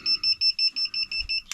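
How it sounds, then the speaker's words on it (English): A solar inverter alarm beeps in a steady, rapid run of about eight short, shrill tones at even intervals, close by and loud, ending with a sharp click. "Stop the beeping"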